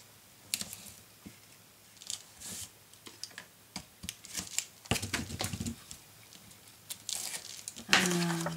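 Tape being pulled and pressed onto an album page in a crafting session, heard as close, intermittent crackles, ticks and short rustling bursts with a louder tearing strip near the end.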